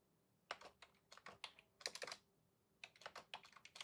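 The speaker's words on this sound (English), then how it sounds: "let's type a message in here" Quiet, close typing on a computer keyboard while entering C++ code, with bursts of quick key clicks separated by short pauses and no talking.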